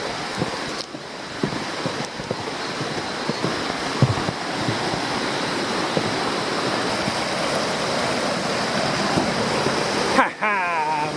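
Surf rolling onto a beach at Cape Chignecto, a steady broadband wash of breaking waves and wind noise buffeting the microphone throughout, fairly loud and close, with a brief voice near the end.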